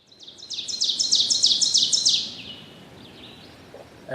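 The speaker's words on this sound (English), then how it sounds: "The ovenbirds seem to be the most raucous of the forest dwellers." A loud, close ovenbird song in a spring forest: a rapid series of emphatic two-note chirps rising in volume, then stopping, with a faint distant song afterward.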